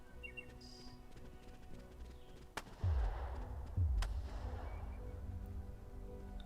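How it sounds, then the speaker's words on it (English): Two sharp gunshots from a pistol or rifle in the video game Second Front, about a second apart, each with a deep booming tail, over a steady background of bird chirps. "Okay, sounded just like a pistol shot there. Maybe a rifle."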